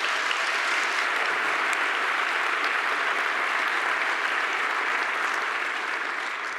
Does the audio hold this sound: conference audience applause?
yes